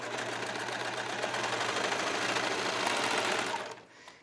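Sewing machine stitching a tulle skirt: a steady, fast mechanical whir and rattle runs continuously at close range, then stops abruptly near the end.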